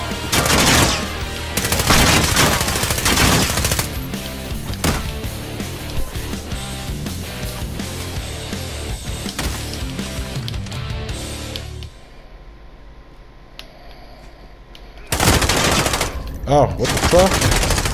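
Rapid SMG bursts from the video game Warzone, loud and close, rattling in dense volleys with brief pauses and a quieter stretch before a final heavy burst; a player swears in between.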